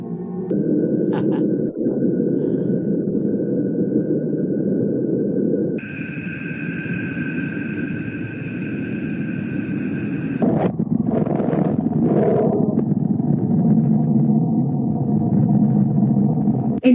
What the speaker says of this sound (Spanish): la NASA recientemente ha descubierto que realmente los planetas suenan y podréis escucharlo